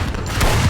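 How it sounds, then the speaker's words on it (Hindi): A dense, rumbling burst of gunfire, loud and continuous, with heavy low booms blending into a steady barrage. "गोलियों की बारिश हो रही थी,"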